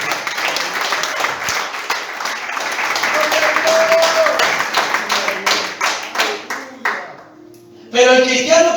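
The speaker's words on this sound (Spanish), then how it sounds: "Aplaudan a Jesús." A church congregation claps enthusiastically, a dense burst of applause that thins into scattered rhythmic claps before a voice speaks over the end.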